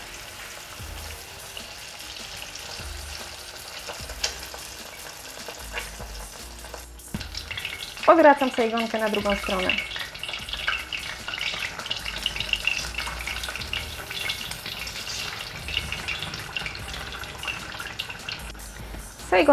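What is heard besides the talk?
spring rolls frying in hot oil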